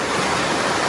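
Warm spring water at Ikogosi resort runs in a loud, continuous rushing wash, steady and close, with no voices.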